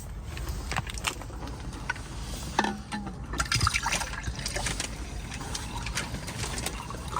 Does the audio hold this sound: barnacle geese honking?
no